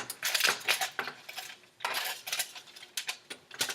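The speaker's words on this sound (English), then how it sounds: "take our nice metal spatula and remove our asparagus from the oven in order to flip it" Metal spatula scraping and clinking against a roasting pan while flipping oven-roasted asparagus, a run of bright close metallic taps and scrapes in irregular bursts.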